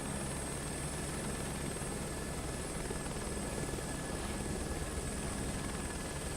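A Robinson helicopter in the game Microsoft Flight Simulator 2024 holds a steady, loud rotor and engine drone with a faint high whine throughout and no one speaking.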